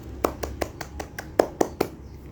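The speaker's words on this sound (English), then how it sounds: "Give applause." Students in an online class give a round of applause, a single pair of hands clapping close to the mic in about nine sharp, evenly spaced claps over a low background hum.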